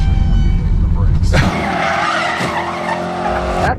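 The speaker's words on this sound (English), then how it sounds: "This is a 60-year-old hot rod, so it can kind of have mind of its own sometimes. Its nose doesn't always like to point in the same direction when you hit the brakes." A 60-year-old hot rod brakes hard and skids, a loud tire screech starting abruptly after an engine drone and sliding on with shifting pitch for over two seconds before cutting off.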